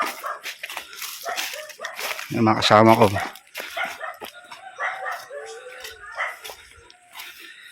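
Dogs bark in a short loud burst of several rapid barks near a rural path along a stream in Silang, Cavite, with people talking before and after.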